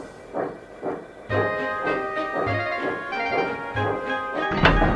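A steam engine puffs at a slow, even pace, rhythmic chuffs with a low thump accompanying some beats, plus a sustained whistle-like tone riding above.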